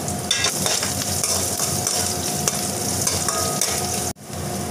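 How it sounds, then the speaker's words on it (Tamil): Onion, green chili, curry leaves and garlic sauté in a pan for carrot rice, a steady loud sizzle with scraping stirs throughout, briefly cutting out near the end before resuming. "வெங்காயம் நல்லா வதங்கிடுச்சுங்க."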